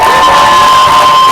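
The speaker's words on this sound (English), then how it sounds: "Give her a round of applause." A debate tournament audience at a youth forum final breaks into loud, dense crowd cheering and applause, a continuous roar with whoops filling the whole moment.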